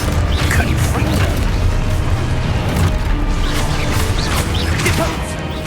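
Confringo blasting spells fire repeatedly in Hogwarts Legacy combat, a loud, dense run of crashing impacts and booming bursts with whooshes, continuous for several seconds before easing slightly at the end.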